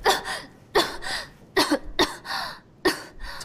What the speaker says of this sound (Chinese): 怎么好端端的咳嗽了